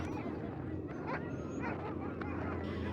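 Sled dogs of an Arctic dog team barking, yipping and whimpering over a steady, noisy outdoor background, with several overlapping calls and a babble of voices.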